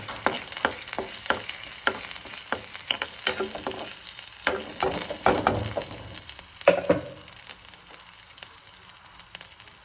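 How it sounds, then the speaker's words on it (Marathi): Garlic frying in oil for a simple okra (bhendi) bhaji, a steady close sizzle with scattered crackles and a few sharp stirring clicks against the pan, with no talking. "लसूण छान तेलात फ्राय होऊ द्या."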